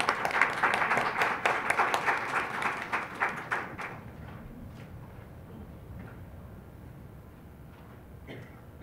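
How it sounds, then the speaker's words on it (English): Round of applause for the Assistant Superintendent of Schools at a Falmouth civics event, dense clapping for about four seconds before fading into quiet room noise with scattered claps. "let's give her a round of applause"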